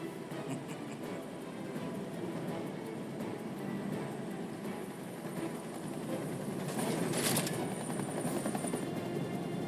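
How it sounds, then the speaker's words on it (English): A helicopter in the video game Final Fantasy VII Remake drones steadily with loud rotor thrum throughout, swelling slightly near the end with a brief burst of higher mechanical noise. "Helicopter brings its gun to bear."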